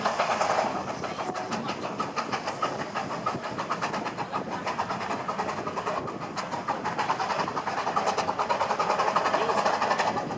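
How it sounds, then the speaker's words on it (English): Two narrow-gauge steam locomotives on the Welsh Highland Railway hauling a train up a steep gradient in the rain, a continuous loud rumble with rapid exhaust beats and rail noise, steady throughout. "Blanche behind, providing most of the motive power on the drier rails to keep the train on the move"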